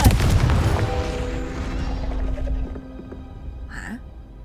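A Confringo spell explodes in Hogwarts Legacy: one loud, close boom with a deep rumbling tail that rings and fades over several seconds, followed by a brief high magical chime near the end.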